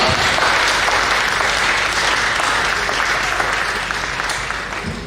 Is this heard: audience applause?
yes